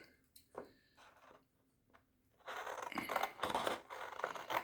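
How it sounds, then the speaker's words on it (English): Scissors snip and crunch through paper in a quick series of rough cuts, close and fairly loud, after a few quieter clicks. "I just use my little pair of scissors here"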